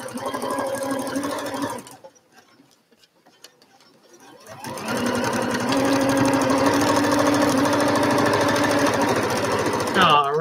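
A sewing machine stitching through quilt fabric runs in a fast, steady mechanical whir, stops for a couple of seconds of near quiet, then starts again and runs loud and close to the end.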